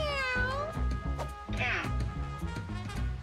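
Several cats meow repeatedly in a game, overlapping close calls rising and falling over a busy rhythmic music bed, with a voice talking at times.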